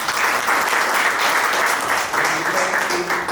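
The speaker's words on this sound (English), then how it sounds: "So round of applause for that." An audience at a panel discussion breaks into a loud, dense round of applause that fills the whole short stretch, with faint voices underneath.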